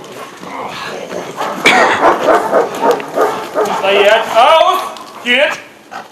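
A trained police service dog barks and yips repeatedly at close range, its sharp calls mixed with someone talking over them.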